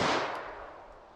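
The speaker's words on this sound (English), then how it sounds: "then we'll hit it from the Revolver" A single loud 10mm revolver shot fired into ballistic gel, a sharp close crack with a short decaying tail.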